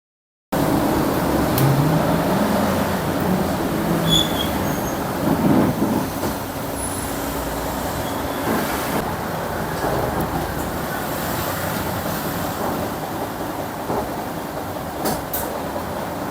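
Continuous rumbling drone of riding inside a moving bus along a road lined with souvenir shops, steady engine and road noise throughout with faint rattles.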